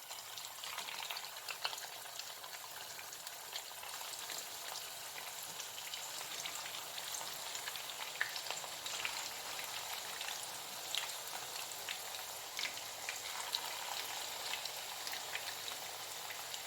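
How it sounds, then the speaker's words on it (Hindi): Mint chicken nuggets frying in hot oil, a dense, even crackling sizzle like light rain, steady and close for the whole stretch with no talk. "ऑयल गर्म हो चुके हैं। अब इसमें नगेट्स फ्राई करेंगे।"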